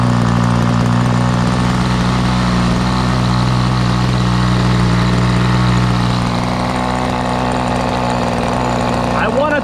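Megatech Nitro Airstrike model airplane with its M46 nitro engine running steadily at close range, a loud continuous buzzing drone throughout with no break.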